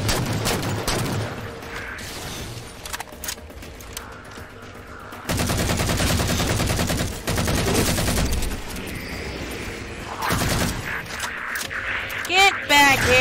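Halo 4 gunfire in bursts, with dense rapid automatic fire in long stretches broken by quieter gaps and a few sharper shots near the end, under a player talking.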